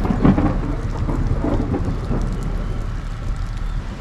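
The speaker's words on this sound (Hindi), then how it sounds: "आपको आवाज़ आ रही होगी बारिश की, और ऊपर से बहुत ज़्यादा थंडरिंग भी हो रहा है यहाँ पे" Heavy rain pours down on the road to Cherrapunji in Meghalaya while loud thunder rolls overhead. There is a strong rumble at the start over a dense, constant hiss of rain.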